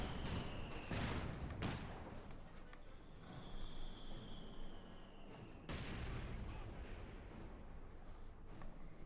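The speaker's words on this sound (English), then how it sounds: "Bazooka fire on the Panzer IV, double bazookas on the Captain" Bazooka rockets and gunfire hit a Panzer IV tank in the World War II strategy game Company of Heroes 2, with sharp blasts, a whistling projectile and rumbling explosions over continuous battle noise, moderately distant.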